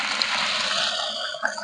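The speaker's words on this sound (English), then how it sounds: "I'm going to start with putting some water in the bucket." Water poured into a bucket, a steady close hiss and splash lasting under two seconds with no talk.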